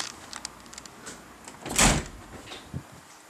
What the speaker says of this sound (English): This closer right here is pretty sensitive. It closes the door with a lot of force.